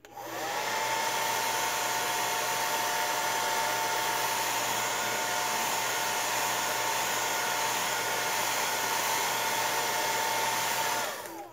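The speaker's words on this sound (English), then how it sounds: "Conair 1875, this is the business. It dries props." A Conair 1875 hair dryer runs steadily and close, drying cosplay props for a Teen Titans Raven costume, with a constant whirring blower hum that holds at one level for about eleven seconds before cutting off.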